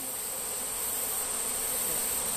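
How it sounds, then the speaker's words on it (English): Honeybees festooning on their comb during a hive transfer fill the air with a dense, continuous close buzz that holds steady and loud throughout, with no talking. "I see a whole line of bees."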